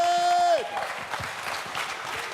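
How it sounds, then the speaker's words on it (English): Audience applause at a startup conference Q&A session, broad noisy clapping that fills the clip after a held tone fades, steady and moderately loud throughout. "big round of applause for Greg, Shane, Ian, and Jonathan"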